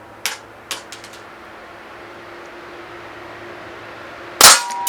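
Cybergun IWI Jericho 941 metal-slide CO2 BB pistol firing: two sharp snapping shots close together near the start, then quiet, then one louder crack near the end, with no talking.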